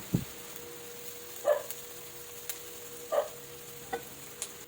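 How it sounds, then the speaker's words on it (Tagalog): Garlic and red onion sauté quietly in oil, with a few soft, scattered scrapes and stirring knocks over a faint, steady sizzle. "So, mix well hanggang sa medyo mag-golden brown ng konti ang ating bawang."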